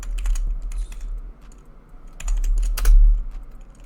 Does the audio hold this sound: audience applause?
no